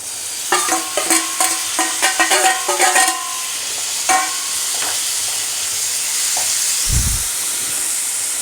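Quick metal clinks of stirring in a pan, then tomatoes for egg keema settle into a steady hissing sizzle over a medium gas flame, swelling toward the end.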